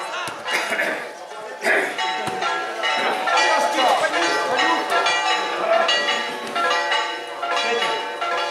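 A bell rings repeatedly over a loud, continuous football stadium crowd roar, with a commentator talking throughout.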